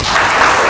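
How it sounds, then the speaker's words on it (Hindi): An audience at an entrepreneurship talk claps, a brief, loud, dense burst of applause that stays level to the end. "तालियां बजाइए"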